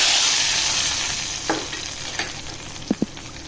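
A hot tempering of mustard seeds, onion, curry leaves and cumin is poured into pongal sambar with carrot and potato, giving a loud hissing sizzle that fades over a few seconds, with a few soft clinks near the end.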